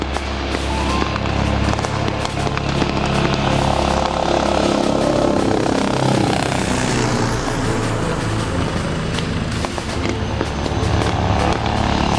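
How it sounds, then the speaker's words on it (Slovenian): Agusta A129 Mangusta attack helicopters operate nearby on a military exercise, a loud continuous rotor and turbine roar with rhythmic blade thumping that holds steady and close throughout. "Spokojno delovanje helikopterjev Mangusta."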